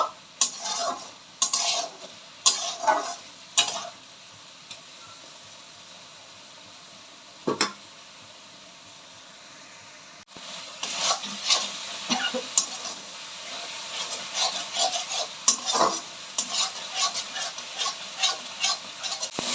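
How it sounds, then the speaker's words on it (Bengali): Spice paste for a fish curry is stirred and fried in a pan, with scattered scraping clinks of a spoon against metal, a quieter pause, then steadier sizzling and stirring with repeated scrapes. "ভালো করে মশলাটা এবারে আমি খুব সুন্দর করে কষিয়ে নেব।"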